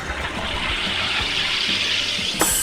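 An Ardesto soda siphon carbonates cooler water with a steady, strong gassy hiss lasting a couple of seconds, ending in a sharper, brighter burst of release.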